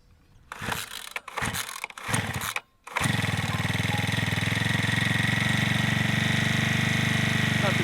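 A SYX MOTO MK 40cc dirt bike is pull-started with three quick ratcheting cord pulls, after which the small two-stroke engine catches and runs at a loud, steady buzzing idle.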